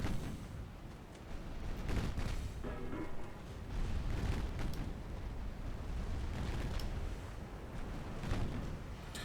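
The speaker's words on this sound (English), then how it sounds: "Torpedoes away." Torpedoes fired from a warship in a naval video game: a sustained low rumbling roar with repeated muffled booms swelling across the whole stretch, dense and continuous without clear breaks.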